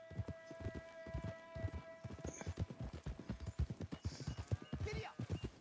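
Horse hooves clip-clop at a steady trot in the Red Dead Redemption 2 video game, close and rhythmic, with a brief whinny and background game music and voices.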